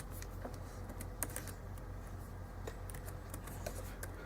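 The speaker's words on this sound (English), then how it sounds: "show you guys what it's like to really type on this thing" Someone types on the keyboard of a cheap $100 Windows 10 tablet. Soft, faint key clicks come in an uneven run over a steady low electrical hum, with no voices.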